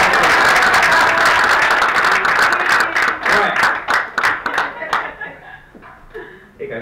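An audience at a magic show in a playhouse claps and cheers loudly for a birthday celebration, the dense applause thinning into scattered individual claps and a few chuckles before dying away.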